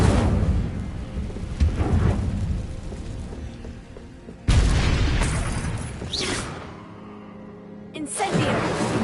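Incendio fire spells cast in Hogwarts Legacy erupt as heavy booming bursts, one early, a sharp loud blast near the middle and another toward the end, each followed by a crackling, rumbling decay.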